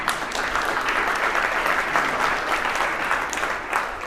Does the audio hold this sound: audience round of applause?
yes